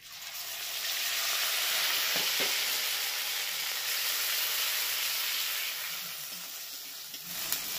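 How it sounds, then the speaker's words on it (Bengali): Whole black peppercorns, green cardamom and cinnamon fry in hot oil in a pan, giving a steady, even sizzling hiss with a few faint stirring clicks. "এবার এটাকে ভেজে নেব।"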